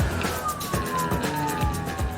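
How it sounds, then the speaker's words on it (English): A fire truck siren wails steadily on the way to a fire, its sweeping tone gliding downward over a low rumbling engine and road noise, loud and continuous throughout with no talking. "In the truck, sirens on, knowing that we were headed to fight a fire."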